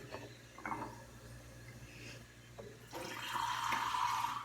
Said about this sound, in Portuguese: as plantas ficam bem sujas, então tem que ser bem lavado